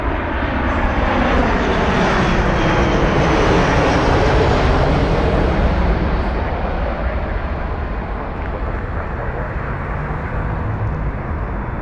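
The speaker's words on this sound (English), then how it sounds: "this flight arriving just now is going to be Southwest Flight SWA 965 coming in from Burbank, California. And this is going to be a Boeing 737" A Southwest Boeing 737 arriving at Las Vegas Harry Reid International Airport roars past loud and near, its broad jet rumble with a sweeping, descending whine that fades somewhat toward the end.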